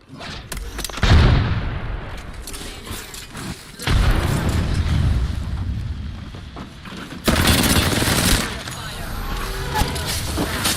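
Gunfire and a grenade blast in an Apex Legends firefight: loud bursts of shots and booms come in waves, close and punchy, with a player's voice talking over parts of it.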